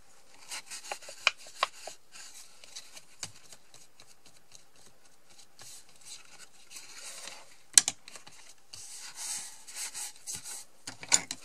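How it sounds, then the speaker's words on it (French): Glue being spread across paper while assembling a handmade scrapbook album, heard as soft, close rubbing and scraping strokes with scattered light taps, quiet and without talk. "je répartis bien partout sur mon papier"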